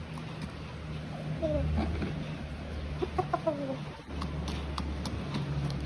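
Chickens in a simple coop give a few soft, scattered clucks and short calls over a low background hum, faint and fairly close.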